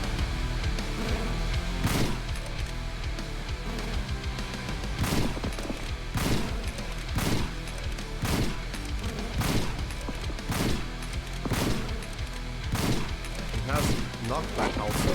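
Rifle gunfire in The Signal, an early-access shooter, rings out as a steady series of loud shots at roughly one-second intervals over a constant game backdrop, with a voice talking here and there.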